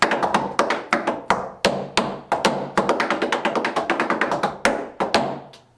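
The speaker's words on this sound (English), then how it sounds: "this is a loud tap floor" Loud, crisp tap-shoe strikes on a portable birch plywood tap floor, a steady run of sharp clicks with short ringing decays, close and alone.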